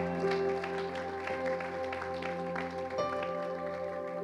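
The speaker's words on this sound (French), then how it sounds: "On applaudit le Seigneur." A church congregation clapping along during a French-language service, a steady patter of hands under sustained music tones, moderately loud and continuous for a few seconds.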